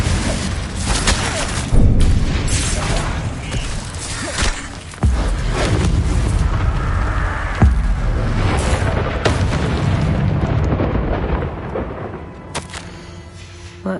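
Confringo spell blasts in the Hogwarts Legacy video game, repeated booming explosions amid continuous rumbling combat noise, loud and close.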